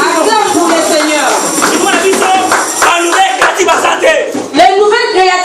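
A church congregation claps for the Lord, steady close applause mixed with voices calling out and a speaker talking over it.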